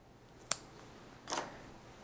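Scissors snip yarn twice while a sweater is knit on an LK-150 knitting machine: two quick, quiet cuts about a second apart with near silence around them.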